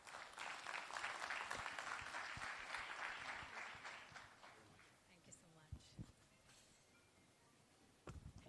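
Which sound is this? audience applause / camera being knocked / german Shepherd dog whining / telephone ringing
audience applause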